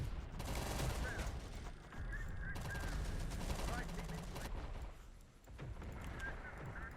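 Gunfire hitting an Abrams tank in the Terminator Dark Fate Defiance real-time strategy game, rapid continuous automatic bursts with short breaks, loud and dense, mixed with honking unit or alert sounds.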